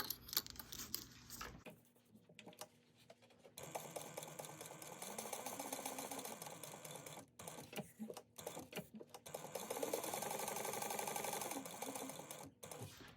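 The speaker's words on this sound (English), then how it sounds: "you're going to sew around this at 1/8 of an inch, and you're going to do that for both of them" A sewing machine stitches fabric for a cut-and-sew bag project, running in a steady whirring hum and pausing several times. The sound is close but quiet.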